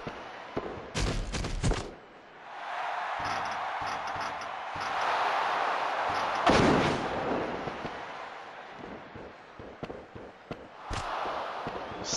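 Bursts of gunfire from a video game, with several sharp loud shots near the start and later, over a steady busy backdrop of battle sound and effects.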